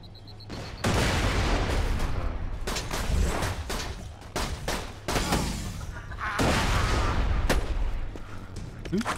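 Repeated grenade blasts and bursts of gunfire from Borderlands 2 combat, loud, dense and chaotic, with sharp explosive hits and rattling shots throughout, and faint voices in the mix.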